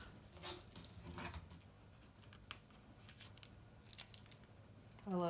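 Heat-resistant tape being peeled off a beach towel after a flocked heat transfer vinyl press, a few short ripping, crackling bursts close up, with quiet gaps between them.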